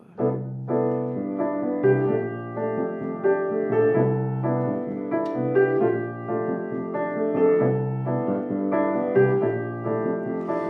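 Steady piano playing with low bass notes moving beneath chords, even and moderately loud throughout, no voices.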